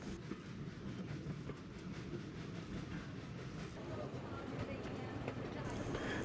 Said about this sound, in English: Brian is sampling the outdoors of a moving train